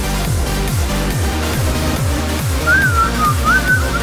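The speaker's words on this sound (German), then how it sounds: "Wer pfeift hier?" Someone whistles a short wavering tune over the pulsing music and engine noise of a Stunt Race video game session.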